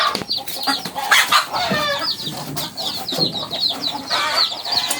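A hen clucks repeatedly nearby while chicks cheep in high, quick bursts, a busy overlapping chorus with no talking.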